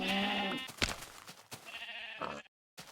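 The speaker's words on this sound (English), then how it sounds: "Why is there just a sheep in there?" Sheep bleating in the Minecraft video game, two loud nasal calls close by, separated by brief quiet, then a short gap of silence at the end.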